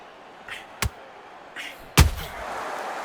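A boxing counter punch landing in the PS5 game Undisputed, with two sharp, heavy thuds about a second apart and the second one louder, over a faint game background with no talk.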